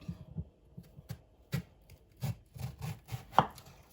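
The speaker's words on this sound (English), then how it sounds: "Just gonna slice them thinly, but not too thin." A knife chops through courgette on a cutting board, slicing it thinly with quick, irregular taps close by, a few louder knocks among softer cuts.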